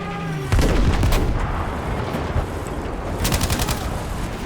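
A tank fires in Battlefield V: a heavy blast bursts in near the start, followed by a dense, ongoing clatter of battlefield gunfire and rumble, with a later cluster of sharp cracks.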